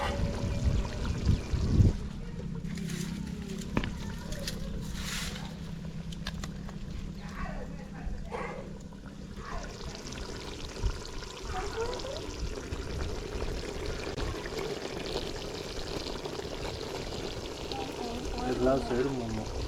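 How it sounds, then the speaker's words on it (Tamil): Basmati rice being layered into a large chicken biryani pot, grains pouring and scattering in soft bursts near the start amid kitchen clatter and background talk. "அப்படியே இப்போ நம்ம லேயராக அப்படியே அரிசி போட போகிறோம்"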